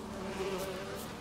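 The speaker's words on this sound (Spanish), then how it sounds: "Las abejas venían hacia mí." Bees buzz softly in a small swarm in The Witcher 3, a faint steady droning hum throughout.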